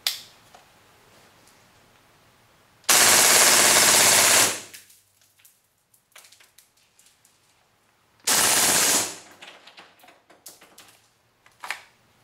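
An AST KWA Kriss Vector airsoft gun fires full auto in two loud, dense bursts of rapid mechanical clatter, each lasting a second or two, separated by quiet stretches with faint handling clicks.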